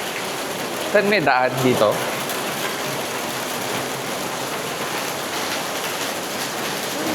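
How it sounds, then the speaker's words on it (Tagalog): Heavy rain pours in a constant, dense hiss, with a person speaking briefly over it near the start. "Malakas ang ulan."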